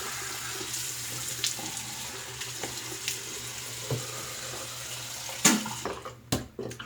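Tap water runs into a sink to rinse off after a shave, a soft steady rushing with occasional splashes and a few louder clunks near the end as it stops.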